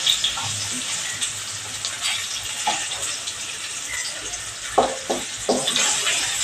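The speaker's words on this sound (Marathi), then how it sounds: "तर या हिंगावर मी बटाटा टाकणार आहे, म्हणजे या बटाट्याला आपल्या छान कोटिंग होतं फोडणीचं." Diced potato dropped into hot oil tempered with asafoetida for poha, giving a steady close sizzle with a few sharper crackles and stirring scrapes near the end.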